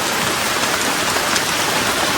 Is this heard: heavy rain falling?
yes